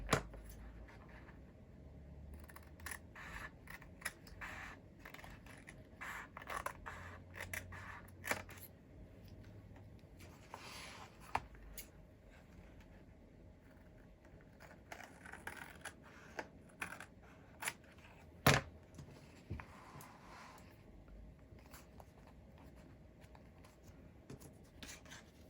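Scissors trim paper for a Halloween journal, giving soft scattered snips and rustles close by in a quiet room, with light handling clicks between cuts.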